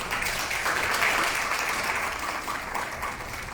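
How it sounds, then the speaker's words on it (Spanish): Audience applause for a speaker at a housing panel discussion in El Salvador, a steady wash of clapping from a crowd that holds throughout, moderately loud with no voices over it. "Llamo también a Dora Guillén, a quien recibimos con un fuerte aplauso."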